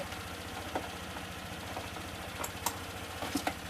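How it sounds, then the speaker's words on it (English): A quiet motorbike engine idles steadily, its low, even pulsing running throughout under faint scattered clicks and taps nearby. "as you can probably hear the bike"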